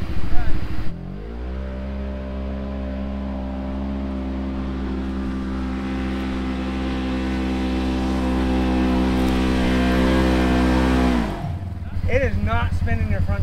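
An off-road vehicle stuck in a sand trap sits at a long, loud, steady high rev as its front tires spin, then drops off abruptly, with voices talking near the end.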